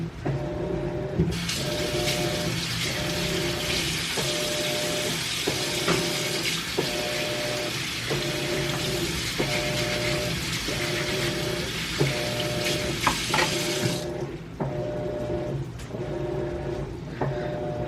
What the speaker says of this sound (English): I gotta wash my hands first